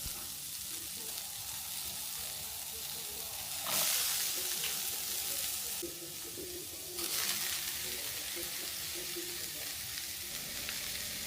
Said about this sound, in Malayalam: ഇനി നമുക്ക് ഒരു പാൻ എടുത്തിട്ട് അടുപ്പിൽ വെച്ച് ചൂടായി വരുമ്പോൾ അതിലേക്ക് കട്ട് ചെയ്ത് വെച്ച സവാളയും തക്കാളിയും ഇട്ട് കൊടുക്കുക